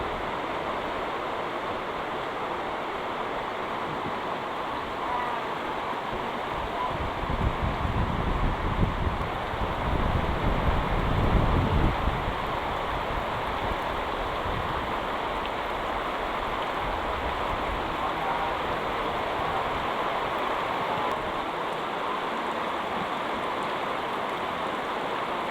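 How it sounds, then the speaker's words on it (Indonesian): Heavy rain and strong wind lash a hut in a banana garden, making a steady dense roar. The noise swells into a louder gusty stretch midway, and no voices are heard. "hujan angin kuat kieu"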